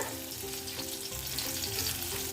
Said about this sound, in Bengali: এই যে এখানটায় হচ্ছে উচ্ছে ভাজা